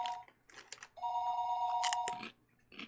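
A telephone rings with a steady electronic tone through the middle of the stretch, amid a few crunchy clicks and thumps, with no talk.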